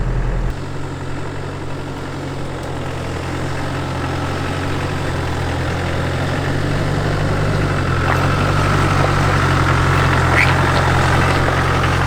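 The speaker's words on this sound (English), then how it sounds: "I'm driving basically a third of the normal speed I would be driving in the first gear" A Land Rover crawls slowly in low-range first gear over rough terrain, its engine a steady, deep, rumbling drone with heavy low vibration that continues throughout and swells slightly louder toward the end.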